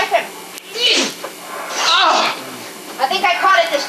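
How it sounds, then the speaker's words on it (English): A cat repeatedly sneezing up close, several sharp bursts spread over a few seconds with brief pauses between them. "Will Zorg stop sneezing?"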